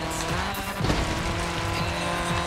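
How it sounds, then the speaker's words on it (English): Racing car in a video game tearing along a road at high speed, engine whining steadily with tire squeals and skids cutting through, loud and continuous throughout. "Even this car is fast."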